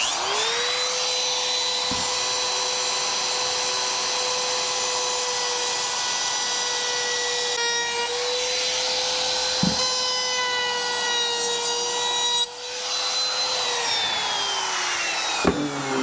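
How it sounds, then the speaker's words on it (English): A router cuts wooden pieces inside and out for a workshop glue-up. The motor whines steadily and loudly for the whole stretch, with brief dips and thumps as the bit bites into and leaves the wood. "we'll route this outside and inside, and then we'll give it a little hand sanding"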